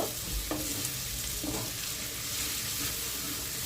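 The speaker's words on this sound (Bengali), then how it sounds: "ভালোভাবে পেঁয়াজ আদা রসুন একসাথে ভেজে নিচ্ছি।" Onion, ginger and garlic sizzle together in a pan on low flame, a dense frying hiss broken by a few stirring scrapes over a few seconds.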